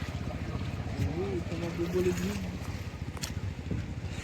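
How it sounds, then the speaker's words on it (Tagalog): Motorized bamboo raft crossing a river near Mount Daraitan in Tanay, Rizal, its low chugging motor running steadily close by under wind noise and outdoor bustle. "dito tayo sasakay sa balsa"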